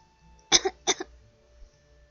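Two short, sharp coughs close by, one right after the other, against near silence.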